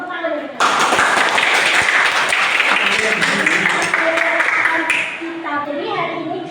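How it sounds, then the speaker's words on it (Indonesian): A classroom of students claps for a classmate in a lesson, a burst of lively applause starting abruptly and fading after a few seconds, with voices talking before and after. "kita tepuk tangan dari kalian"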